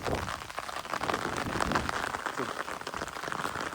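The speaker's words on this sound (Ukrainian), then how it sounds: "Ну, пішов дощ, ховаюсь під зонтом." Rain patters densely and steadily on an umbrella during a mountain bike race, a close, continuous hiss of drops with no talk.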